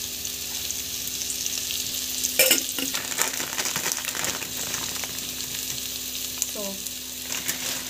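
Biryani masala frying in oil with sautéed onions, a steady close sizzle throughout with a few louder spatters and faint stirring scrapes; a single short spoken word near the start.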